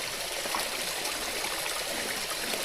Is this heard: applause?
no